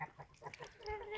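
A sick chicken makes a few soft, strained clucks and a thin squeaky call, close by and quiet.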